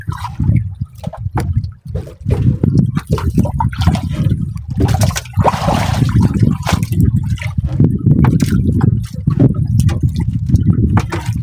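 Strong water current rushing and churning close by, a loud, continuous turbulent wash with surging splashes and gurgles that stay steady throughout.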